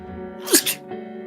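A single sneeze during a casual drawing stream, a short sharp burst with a quick follow-up huff, heard close over a steady faint background hum.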